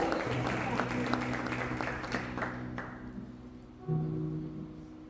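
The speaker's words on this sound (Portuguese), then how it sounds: "Aplauda o nome dele, igreja." A church congregation applauds in a steady wash of clapping that fades, then swells briefly again near the end, with voices mixed in under it.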